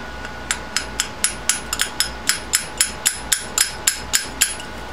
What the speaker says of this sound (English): let me get out the brass hammer here